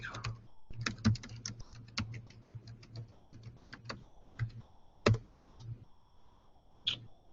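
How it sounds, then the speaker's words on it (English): Someone types on a computer keyboard up close, in irregular bursts of quiet key clicks with short pauses and a couple of louder taps, alone without talk. "Yeah, if I could type."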